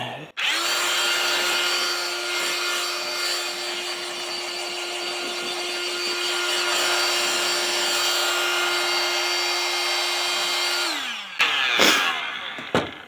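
Small Meath blower running in a woodworking shop, a steady close whirring drone with a high whine that holds for about ten seconds, then spins down and cuts off, followed by a few handling knocks.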